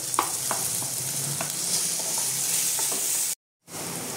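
Chopped onion, crushed ginger and garlic, and chopped green chili fry in hot oil with a steady close sizzle, broken by occasional stirring scrapes and a brief cut to silence near the end.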